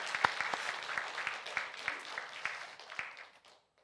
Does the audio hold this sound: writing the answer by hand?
no